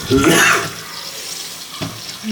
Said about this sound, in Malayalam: ആ മാറ്റി വെച്ച മട്ടിൻ്റെ അകത്തുനിന്ന് വീണ്ടും ഊറി വന്നിരിക്കുന്ന എണ്ണയാണ് കേട്ടോ അതാണ് നമ്മളിപ്പോൾ ബോട്ടിലോട്ട് ഊറ്റിയെടുക്കുന്നത്